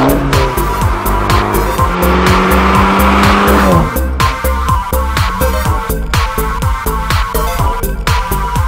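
A modified 2008 Fiat 500 Abarth with upgraded engine tuning of about 180 hp, a dump valve and lowered suspension roars loudly and close, its revs climbing steeply, then dropping and climbing again through quick gear changes.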